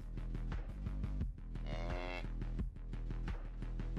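A cow in the indie horror video game Submission lets out a drawn-out moo over a pulsing, rhythmic game soundtrack, with no talking.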